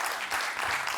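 An audience claps during a panel session at the Skoll World Forum 2026, with dense, steady applause filling the whole short moment at an even level.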